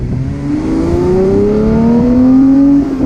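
Porsche 991 Speedster engine, loud and close, with a steady rising tone as it revs, a sustained run of engine sound lasting about three seconds.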